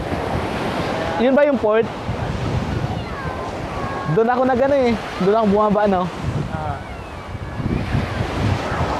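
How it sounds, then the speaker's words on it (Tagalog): Strong surf breaking along a beach near a port at the far end of Calapan, a broad steady wash of waves and wind noise throughout, with people talking over it in several bursts. "Lakas ng alon ngayon, no?"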